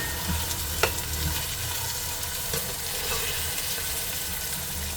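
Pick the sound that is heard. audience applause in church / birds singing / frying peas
frying peas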